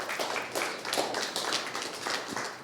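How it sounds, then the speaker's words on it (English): Audience applause for a questioner named Andrea at a live body language show, steady crowd clapping sustained across the whole moment at moderate loudness. "Round of applause for Andrea."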